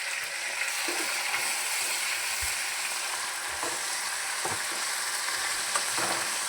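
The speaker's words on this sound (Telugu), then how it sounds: "అల్లం వేగిన తర్వాత మనం గోంగూర వేసుకోవాలి." Gongura leaves frying with ginger in a pan: a continuous close sizzle with occasional clinks and scrapes of stirring, no voices.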